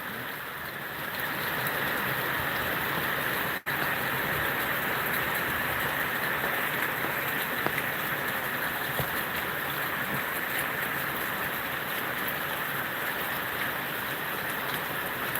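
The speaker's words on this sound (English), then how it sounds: "look at that, the amount of water that's flowing" Heavy storm rain pours steadily, with water rushing out of a drain pipe into a backyard. A dense, unbroken roar carries on at an even level throughout, with one brief dropout partway through.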